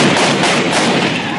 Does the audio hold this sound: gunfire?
yes